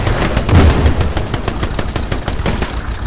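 Dense, continuous automatic gunfire from the WWII shooter game Hell Let Loose, rapid repeated shots with heavy low booms, loud and close throughout, no speech.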